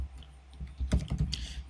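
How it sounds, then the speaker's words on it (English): Several quick keystrokes on a computer keyboard while text is typed into a CorelDRAW business card layout, a short close burst of clicks that rises after a quieter start, with no talking. "And then here I type"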